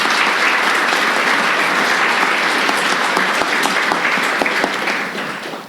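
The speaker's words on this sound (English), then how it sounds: "everyone please join me in giving a round of applause to Siew Ming Thang" Audience applause at the close of an academic interview at the JALT PanSIG 2019 conference, steady dense clapping filling the room for several seconds before tapering off at the end.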